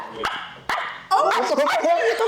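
A man imitates a dog's bark with his voice, giving a few short yapping barks meant to mimic a small white dog, loud and close, with talk and laughter around them.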